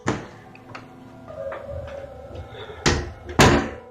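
A basement door opens with a soft, drawn-out creak between scattered knocks and clunks, followed by two sharp, louder bangs close by, with no voices.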